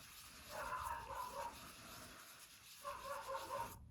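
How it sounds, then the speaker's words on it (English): A dog barks in the background in two short bursts separated by a pause, somewhat distant and muffled. "you can probably hear my dog barking in the background"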